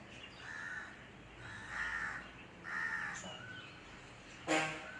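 Several harsh crow caws repeat at a relaxed pace, fairly close in a home garden, followed by a brief sharp noise at the end; no talking.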